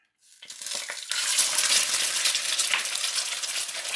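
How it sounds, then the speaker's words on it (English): Eggs land in a pan of frying salmon fried rice with cilantro, and after a brief quiet start a loud, bright sizzle bursts up and holds steady close by, with light stirring clinks. "then we're gonna put the egg in it"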